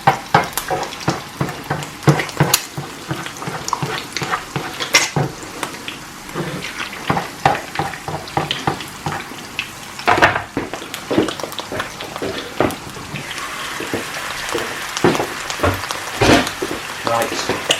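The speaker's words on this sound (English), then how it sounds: "Okay, so there's frying." Japanese hamburger steak (hambagu) sizzles and crackles in a frying pan with a steady hiss, broken by sharp clinks and scrapes of a utensil against the pan.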